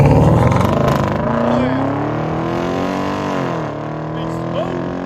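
A Hyundai Equus engine with Flow FX exhaust and a rear muffler delete revs loudly and continuously, its tone sweeping upward and dipping as it pulls away, with voices faintly underneath.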